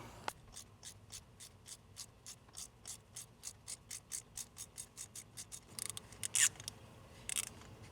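A hand ratchet with extensions clicks rapidly and evenly while backing out spark plugs on a Saab, close and fairly quiet, with a few sharper metallic clicks near the end.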